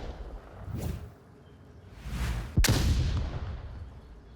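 A grenade in the VR shooter Onward goes off with a sharp, loud blast near the middle, preceded by softer whooshing rumbles and followed by a decaying roar.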